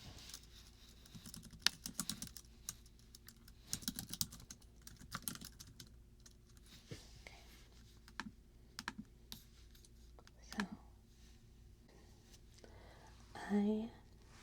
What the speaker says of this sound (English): give you some typing sounds